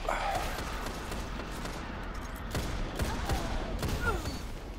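Automatic weapon fire in the shooter game Destiny crackles in a rapid, sustained burst across the clip, dense and mid-distance, with game effects layered over it.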